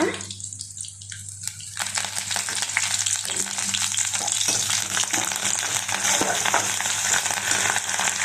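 Onion and masala fry on a low flame for a mutton curry, starting quieter, then swelling into a strong, crackling sizzle with stirring noise, heard close throughout without any talking.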